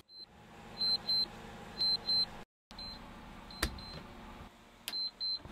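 Kitchen timer on a boat marking the end of a pressure-canning run, sounding in short bursts of repeated high beeps over a quiet hum, with a brief dropout and a couple of sharp clicks.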